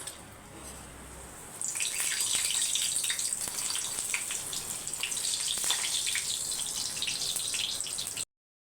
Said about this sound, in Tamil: இப்போ வந்து அப்பளத்தை பொரிச்சிக்கலாம்